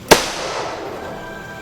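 A single loud firecracker bang goes off sharply and close by, followed by a long fading rumble of echo and drifting noise.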